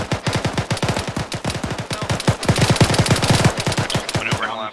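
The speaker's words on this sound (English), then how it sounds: "AK fire for rear." Rapid bursts of AK rifle fire in ArmA 3, close and loud, a sustained string of sharp shots in quick succession that slows into scattered rounds near the end.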